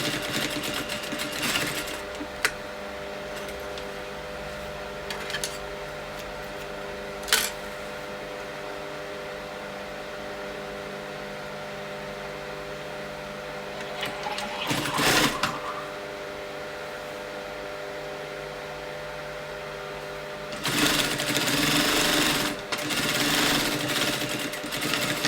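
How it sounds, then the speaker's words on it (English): A sewing machine top stitches a bespoke valance close to the edge, running in a steady close whir for long stretches with brief bursts and pauses between runs; no talk. "I'm just top stitching it down, nip to nip, sewing really close to the edge."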